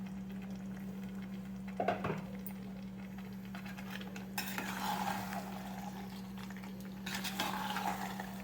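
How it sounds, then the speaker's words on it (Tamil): A spoon scrapes and clinks in a pan as chicken is stirred into Chettinad masala gravy, a few distinct stirring strokes over a steady low kitchen hum, fairly quiet, with no talk. "எல்லா மசாலும் சிக்கனுக்குள்ளே நல்லா படுற மாதிரி கலரி விட்டுக்கணும்."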